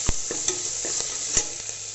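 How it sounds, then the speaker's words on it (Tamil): Curry leaves, green chillies and spices sizzle steadily as they are sautéed in a pan, with a few soft stirring scrapes over the hiss. "இப்போ கருவேப்பிலை ஆட் பண்ணுறோம். ஸோ இது எல்லாத்தையுமே நீங்கள் நல்லா போட்டு வதக்கிக்கோங்க."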